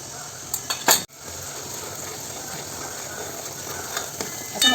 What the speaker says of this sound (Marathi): असं मस्त परतून घ्यायचं